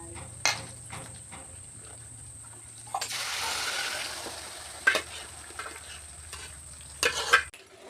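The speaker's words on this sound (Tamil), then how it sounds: "இப்படி நல்லா பொரியமாக கிளறி விட்டு பொரியமாக செய்யுங்க" Tomato pickle being stirred as it fries in a pan, a spoon scraping in bursts over a soft steady sizzle, with a few sharper clanks toward the end; no talking.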